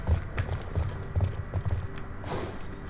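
Hooves of a horse in the Black Ops 2 game clop at a walking pace, irregular thuds close by, ending in a short hiss of noise; no speech.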